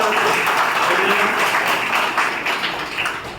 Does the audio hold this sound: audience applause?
yes